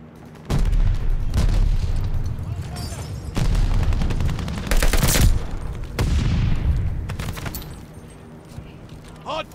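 Gunfire in the Call of Duty: Vanguard multiplayer Hardpoint mode set in WW2, loud bursts of automatic fire and heavy booms in repeated volleys, with short gaps between bursts.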